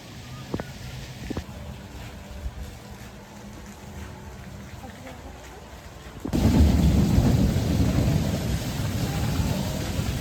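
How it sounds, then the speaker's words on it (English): Rain falls on an amusement park in Austria. A quiet, steady patter swells suddenly partway through into a much louder, dense hiss of a downpour, and no one speaks. "Just can't catch a break with this rain at the moment."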